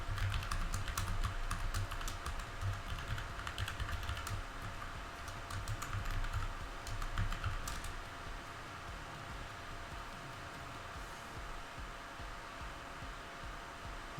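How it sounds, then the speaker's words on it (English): Rapid, clattery keystrokes on a loud mechanical keyboard, steady and close, with clicking bursts that thin out toward the end over a faint background hum. "And this is a super loud keyboard. It's a mechanical keyboard"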